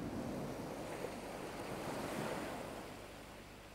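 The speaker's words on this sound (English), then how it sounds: "A day like today, it's very windy, we've got lots of white caps." Waves and whitecaps churn on a windy sea, a continuous wash of surf and wind noise at moderate distance that slowly fades toward the end.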